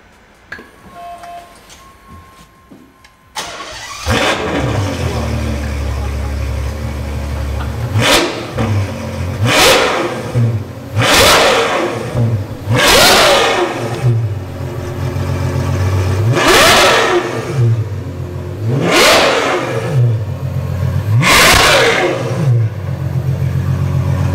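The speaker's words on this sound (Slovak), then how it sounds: "auto už má namontovaný Valvetronic výfuk" Ferrari GTC4 Lusso V12 with a Valvetronic exhaust, revved repeatedly after a quiet start: about six sharp, loud rising blips over a steady idle rumble, close by and with no talk.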